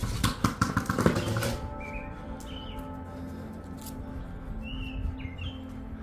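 Birds chirp and call in short, scattered bursts during a solar eclipse, small high tweets standing out above a low steady background hum, after a brief noisy rustle at the start.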